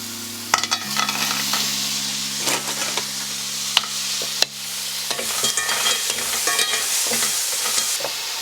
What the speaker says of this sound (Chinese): 番茄变色之后，我们可以放入皮皮，根据你要吃的量。